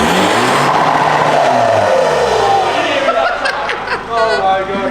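A straight-piped VW Golf GT TDI diesel revs hard and loud up close, rising and falling with a coarse rasp while people laugh and chatter over it.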